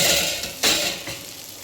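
Chopped cabbage is stirred in a frying pan with a spatula, a short scrape and soft sizzle with a couple of brief clattering strokes, heard alone.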